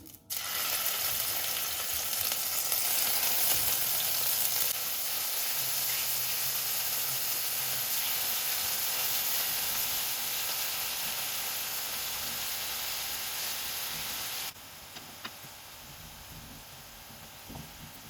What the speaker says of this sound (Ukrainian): Сковорідка розігріта і можна туди викладати фрикадельки по одній